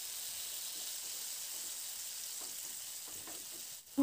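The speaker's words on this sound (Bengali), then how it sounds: "তো লঙ্কাটা দিয়ে দেখুন নাড়াচাড়া করে লঙ্কাটাকে একটু ভেজে নিচ্ছি।" Green chillies, tomato and garlic frying in hot oil in a pan, a steady close sizzle and hiss with faint stirring scrapes near the end.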